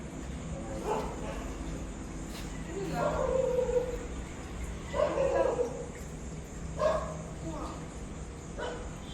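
A dog barks at night on a roadside stop, a few separate woofs and yips spaced a couple of seconds apart, fairly distant, with people talking over them.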